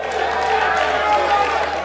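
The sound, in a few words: applause for Mr. Alfred Diobo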